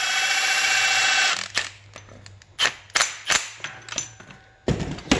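A ratchet tightens the strut mount nut on a Mk4 car's suspension: a steady whir first, then a series of quick sharp clicking bursts close by, with no talk.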